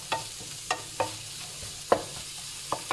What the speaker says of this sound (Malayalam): ഇനി നന്നായിട്ട് ഇളക്കി കൊടുത്ത് വെജിറ്റബിൾ ഒന്ന് വേവിച്ചെടുക്കണം.